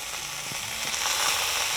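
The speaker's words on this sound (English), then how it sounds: "Ooh, you hear that? That sizzle is perfect." Lamb kebab skewers sizzle in a hot pan, a steady close-up hiss with faint crackles and no talking.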